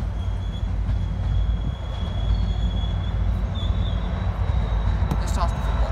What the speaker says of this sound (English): Here comes train number 6.